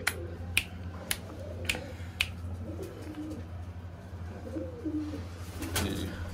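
A pet female pigeon coos softly in a low, rounded murmur nearby, punctuated by a few sharp finger snaps early on, with no voices.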